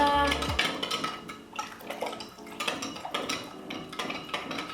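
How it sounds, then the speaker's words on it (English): A spoon stirs olive oil into a pizza dough mixture in a bowl, giving soft scraping and clinking scrapes at close range in a short irregular burst of motions. "Just give that a little stir."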